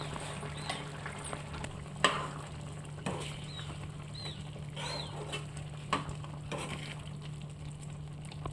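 Chickpea chana masala bubbling in a pan, a soft steady simmer with gentle pops and occasional light clinks over a constant low hum, close and fairly quiet.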